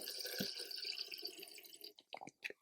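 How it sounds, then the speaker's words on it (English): Water trickles and drips softly into a tiger wandering spider enclosure to soak the substrate, a faint close steady pour followed by a few scattered drips. "I'm going to soak it with a little bit of water"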